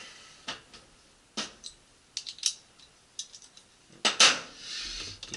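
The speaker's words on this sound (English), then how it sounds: "Just use the socket to spin it down." A socket ratchet tightening the agitator bolt on a Maytag Bravos washer, heard as a few scattered bursts of clicking and metallic rattles, close and sharp against a quiet background.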